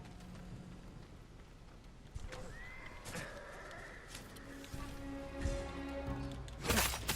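Horses whinny in a stable in the Ghost of Tsushima video game, a drawn-out neigh rising over steady rain-like ambience, with scattered hoof clatter and a louder burst near the end.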